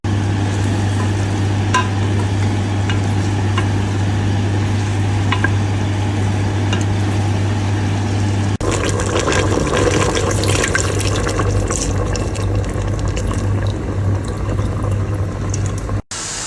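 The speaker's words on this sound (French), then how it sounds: "Je sais pas si vous m'entendez avec la cocotte derrière." A pressure cooker gives a continuous hiss and bubbling roar of steam, growing louder and rougher partway through before cutting off abruptly near the end.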